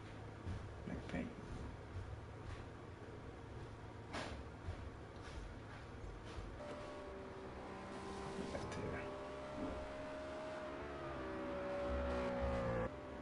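A Renault race car's engine drones and climbs in pitch in Project Cars 2, heard quietly at a distance with a voice talking over parts of it.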